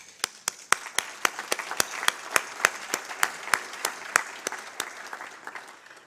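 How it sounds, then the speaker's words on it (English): Audience applause for a sponsor at an evening tech-trends event, a steady wash of clapping from a crowd with sharp individual claps standing out in a regular rhythm throughout. "they definitely get applause"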